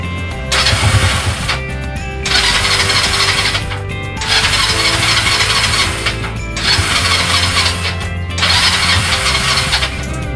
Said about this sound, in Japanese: じゃあちょっとセル回してみます。